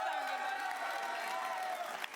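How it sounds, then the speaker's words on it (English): Applause and cheering from the audience at an Xbox Gamescom 2019 show, a short, steady, fairly distant wash of crowd noise with some tonal hum over it. "I'm going to ask you for another round of applause"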